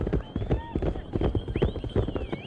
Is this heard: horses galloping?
yes